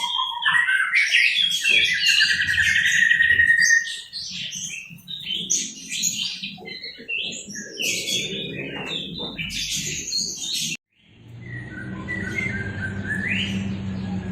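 An oriental magpie-robin sings loud, varied whistling phrases and chirps close by, then pauses; after a brief gap, softer calls continue over a low background hum.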